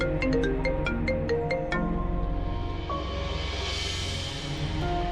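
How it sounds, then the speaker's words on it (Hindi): A phone ringtone plays loudly in a drama scene, a rhythmic melodic pattern of repeated tones followed by a rising electronic sweep, continuous and close. "किसका फोन है? साहब का फोन है।"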